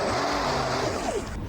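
A DIY electric surfboard drive motor runs under a power test, giving a steady whirring hum throughout with a rising whine near the end, close and continuous.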